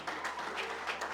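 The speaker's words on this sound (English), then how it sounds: "Please give her a very rousing applause." Audience applause for the Nigerian Society of Engineers vice president at a branch chairman inauguration ceremony, a brief steady patter of many hands clapping at a moderate distance.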